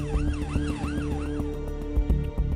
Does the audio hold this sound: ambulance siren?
yes